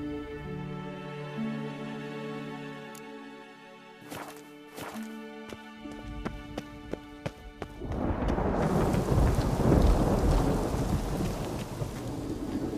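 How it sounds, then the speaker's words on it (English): Distant rolling thunder builds into a loud, steady downpour of rain with crackling rumbles, preceded by a few sharp clicks, from a thunderstorm in The Witcher 3: Wild Hunt video game, heard from inside a tower. "We can hear the thunderstorm, even though we're still in the tower."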